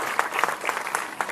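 Audience applause at a large public event day, a short burst of steady clapping with a few louder individual claps standing out.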